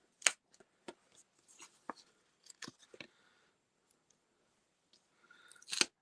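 Card paper being trimmed while making a card from scraps, a few crisp, separate snips and rustles close by in a quiet room, with a louder cut near the end and no speech.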